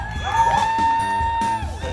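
A crowd cheers for a woman, with one long high whoop held over a dense, loud roar of shouting voices for about two seconds.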